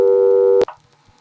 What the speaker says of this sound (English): See, anytime you don't hang up long enough, there's the busy signal.